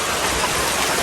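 Rain falls heavily in a steady, dense hiss that stays at one level throughout the short stretch, with no voices.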